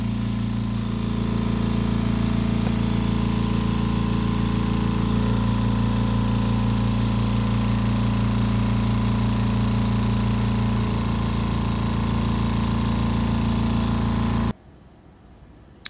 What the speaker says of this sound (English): I paused because the air compressor was on